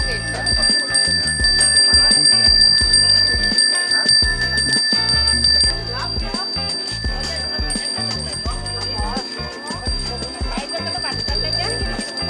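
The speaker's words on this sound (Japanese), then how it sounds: "心地の良い鈴の音とともにお祈りが捧げられていますね" Small hand bells ring during a Balinese Hindu offering prayer at a temple, a bright sustained shimmer of tones carrying steadily through the whole stretch over a busy background of voices and ambient noise.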